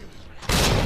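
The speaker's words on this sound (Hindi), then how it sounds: "अरे बम" A bomb blows up in the video game Resident Evil 2 Remake, a sudden loud burst of noise cutting in halfway through after a quieter stretch of game sound.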